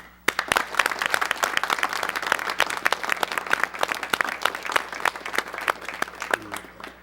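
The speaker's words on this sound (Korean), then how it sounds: "감사의 뜻으로 박수 선물 드리겠습니다" A studio audience claps in sustained, dense applause for a thank-you to farmers at a 1986 KBS broadcast, steady and full throughout.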